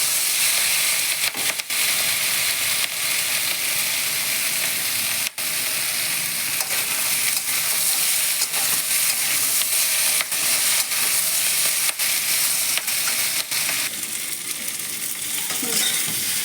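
Mixed green, yellow and red vegetables fry in a pan for a mourala fish curry, a continuous close hissing sizzle with occasional sharp utensil clicks and stirring scrapes, no voices.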